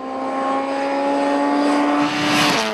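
A Ford Fiesta rallycross car with the Stig at the wheel, its engine holding a loud, sustained high-revving drone with strong harmonic tones, rising and surging toward the end as it drives hard through a corner.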